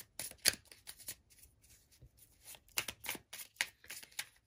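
Tarot cards are shuffled by hand close up, making quick bursts of papery riffling and flicking that come in irregular clusters, soft and alone with no voice.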